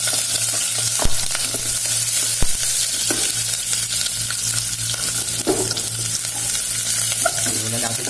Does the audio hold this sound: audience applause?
no